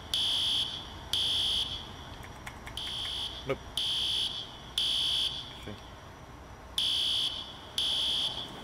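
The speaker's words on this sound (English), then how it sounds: "reset the fire alarm" A fire alarm repeatedly sounds loud, piercing pulsed tones in regular bursts of about half a second, with short gaps between them, inside a building during an emergency response drill, while a person briefly speaks.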